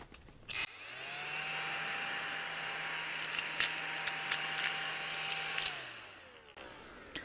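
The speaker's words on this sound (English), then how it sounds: "basically you just vacuum your space so that everything is nice and tidy" A small desk vacuum cleaner switches on and runs with a steady high whine for several seconds, with light clicks and rattles of small objects being sucked up, then winds down and stops.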